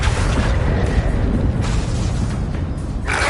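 A deep, loud boom from the Bombarda blasting spell in a Harry Potter video game rumbles continuously, heavy and close, with the roar swelling and fading slightly over a few seconds.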